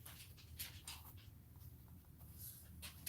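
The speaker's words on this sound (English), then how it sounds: "Sorry. It's my dog." A dog licks itself and huffs indoors in a craft room, faint wet smacking and snuffly breaths scattered irregularly over a low room hum, with no talk.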